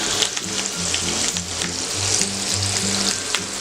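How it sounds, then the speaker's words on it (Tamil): Ground garlic chutney sizzles and fries steadily in sesame oil in a pan, a close, continuous crackling hiss with faint stirring and no talk. "எண்ணெயெல்லாம் சட்னிலேருந்து பிரிஞ்சு வர வரைக்கும் நல்லா வதக்கிக்கிட்டே இருக்கணும்."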